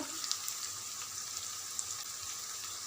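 Onion, green chillies and curry leaves frying in hot oil, a steady close crackling sizzle with a few faint pops and no one talking.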